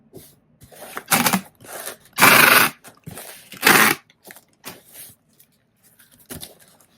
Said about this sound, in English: More tape noise.